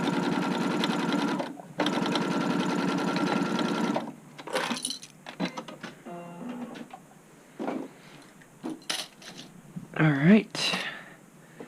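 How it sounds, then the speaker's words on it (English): A sewing machine stitches an upcycled button-up shirt in two close, steady runs of rapid whirring, then falls quiet amid small handling clicks and rustles. "I'm gonna sew out, so this is just gonna be a little bit longer."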